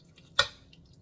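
A single short wet splash as Carnation evaporated milk is poured into a dish while cooking, a quick bright burst that fades quickly in a quiet kitchen.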